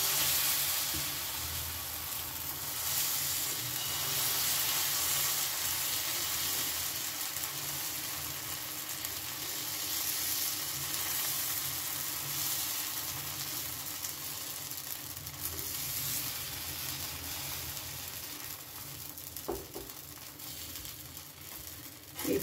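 Paneer chilla batter cooks in an oiled pan over a medium gas flame, a soft continuous sizzle with faint scraping of spreading and a brief clatter near the end, no talking.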